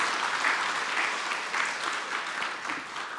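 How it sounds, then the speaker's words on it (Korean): A church congregation claps during a Sunday service to welcome a newly registered member, a moderate, even patter of many hands continuing throughout the short stretch. "우리 박수로 환영하시도록 하겠습니다."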